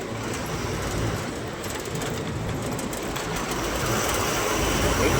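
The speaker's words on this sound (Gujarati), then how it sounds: "ટ્રેન જાય ભાઈ." A train passing near a road in Gujarat on the way to Rajkot, heard as a steady, fairly loud rumbling wash of rail noise that swells slightly toward the end, with no talk over it.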